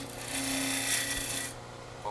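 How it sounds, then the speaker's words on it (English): A bowl gouge with a 40/40 grind cuts wood on a spinning lathe with a rasping scrape for about a second and a half, then stops, leaving quieter workshop background. "So let's start by going in square with the nose of the bowl gouge."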